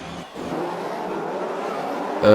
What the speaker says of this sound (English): my car sound is too loud